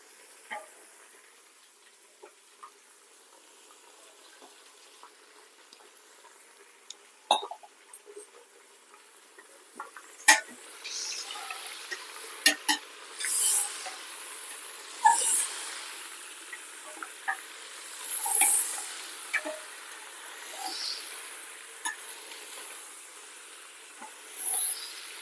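Mutton and gongura leaves cook in oil for a Telangana-style curry, making a quiet, sparse crackle and hiss. Scattered pops grow busier in the second half, with occasional stirring scrapes and no voice.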